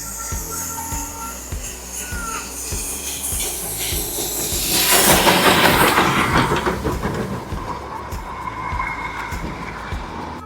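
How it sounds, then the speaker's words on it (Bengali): The Darjeeling steam toy train passes at Batasia Loop, with rhythmic clickety-clack of wheels on the narrow-gauge track and a swelling hiss of steam that peaks mid-pass and then fades back to steady rolling clatter. "এবার স্টিমটা আসছে, যেটা স্টিমের টয় ট্রেন।"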